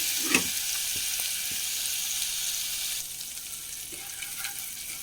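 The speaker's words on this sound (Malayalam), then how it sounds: "ചതച്ച് അര അരച്ചതാണ് അത് കൊടുക്കുന്നത് അതൊന്ന് മൂത്ത് വന്നോട്ടെ" Ground paste of crushed fennel seeds and green chilli frying in a pan, giving a steady, close sizzle with a few soft stirring clicks; the sizzle eases slightly partway through.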